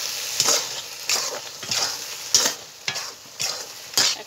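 Ground garlic frying in a pan while cooking taro flower hisses and sizzles close by, broken by about eight regular, sharp stirring scrapes, with no talk.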